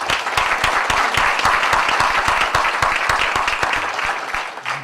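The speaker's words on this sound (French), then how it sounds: "Applaudissez-la parce qu'elle a compris." Applause from an audience at an annual general assembly, a dense, steady patter of many hands clapping together, loud and continuous before thinning slightly at the end.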